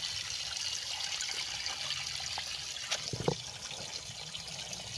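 Spring water gushing steadily from the ground through a pipe beside a river, a soft continuous trickle and splash heard at moderate distance, with a brief louder splash near the end.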